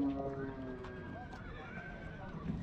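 Horses neigh at a horse market in Kara-Balta, with drawn-out whinnies and some hoof clopping, faint and a little distant, while people talk nearby.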